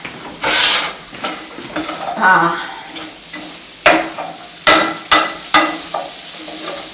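Food is stirred and blended in a sizzling pan while cooking breakfast, with a spoon scraping and knocking against the pan in irregular strokes over steady frying, loud and close.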